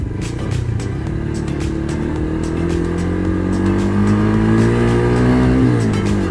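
A Motorstar Z200s motorcycle accelerates hard, its engine note climbing steadily through rising revs over several seconds, loud and close with no talk.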